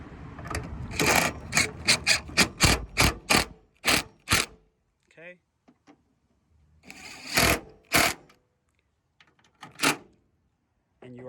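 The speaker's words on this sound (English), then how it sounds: "grab your drill" A power drill drives 8mm bolts into a 2004-2008 Ford F-150 tail light, running in short bursts of loud mechanical whirring separated by pauses, with a brief spoken word.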